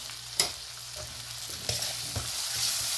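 Chilies and spice masala of turmeric, green and red chilies, coriander powder and dried chili fry in a pan with a steady close sizzle, broken by a few louder scraping stirs.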